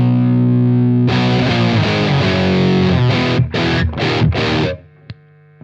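Heavily distorted electric guitar chords through a Mosky D250X pedal, a DOD 250 clone, ring out loud and dense at high gain, then break into four choppy stabs before cutting off into near silence.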